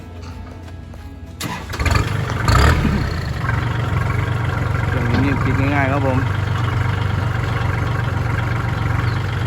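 A Kubota L4018 tractor diesel engine cranks with a sharp burst, catches and then settles into a steady, close idle, while someone speaks over the running engine.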